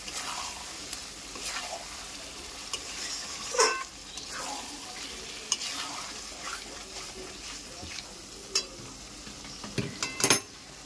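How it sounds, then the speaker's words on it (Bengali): Spice paste is stirred into hot frying oil for mutton kosha, with a soft sizzle under scattered scraping and clinking of a spoon against the pan, fairly quiet with a few sharper knocks. "এই তেল ছাড়ার পরে ওর মধ্যে দেব ওই যে মশলাটা করে রেখেছি সেই মশলাটা। দিয়ে ভালো করে নেড়ে নেব।"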